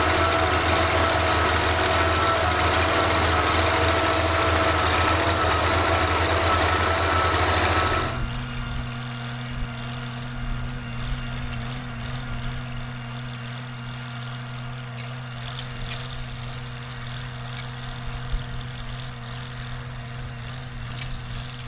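An old Oliver tractor engine rumbles loudly at first, then settles into a steady, even idle with a constant low hum that runs alone until the end.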